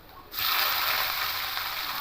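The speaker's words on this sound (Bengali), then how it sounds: "এবার এখানে পেঁয়াজ কুচিটা দিয়ে দেবো" Chopped onion tipped into hot oil with lightly browned garlic for dal fry, bursting into a loud, steady sizzle that starts abruptly and holds close up.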